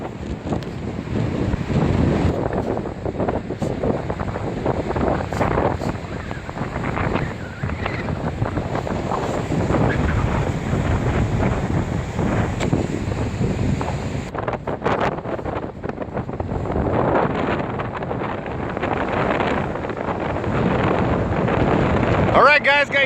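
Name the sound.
strong wind at the beach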